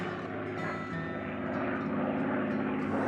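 A World War II warbird's Merlin engine drones loud and steady, a rich, continuous propeller-aircraft roar lasting the whole stretch without pause.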